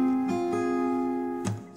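Strummed acoustic guitar chord voiced with two extra notes added, ringing out alone with a sustained tone, struck again briefly before a third, brighter strum near the end.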